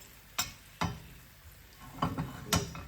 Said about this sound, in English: let it sizzle a bit